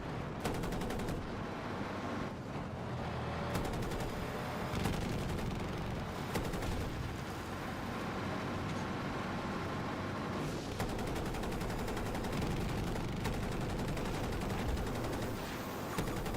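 Gunfire in the Battlefield video game, dense rapid bursts of automatic weapons and repeated shots crackling continuously through a noisy battle, fairly distant and steady with no talk.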